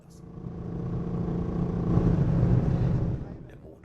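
A 1967 VW Beetle engine runs at full throttle on the Autobahn. Its loud, rough drone swells over a few seconds, then eases off, heard close from inside the car.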